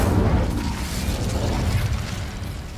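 Incendio fire spell cast in Hogwarts Legacy: a loud, roaring burst of flame that whooshes steadily for a few seconds.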